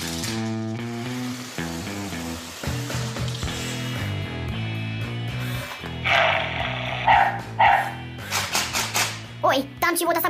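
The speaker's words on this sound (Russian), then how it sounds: "там чего-то собака лает" A dog in a 1971 Soviet animated cartoon barks in a run of quick, fairly close yaps over background music, with a character's voice speaking nearby.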